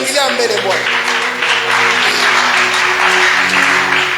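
A church congregation applauds in a sustained, dense burst of clapping lasting several seconds, loud and close, with voices mixed in and a speaker talking over it.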